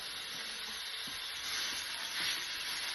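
Beef mince sizzles steadily in a hot pan, a continuous close hiss with faint scraping as it is broken up.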